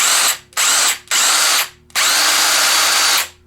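A TECCPO cordless 1/2-inch impact wrench with a brushed motor and 4 amp-hour battery spins in reverse in four loud close bursts: two short, one medium, then a longer sustained run, with brief silent gaps between.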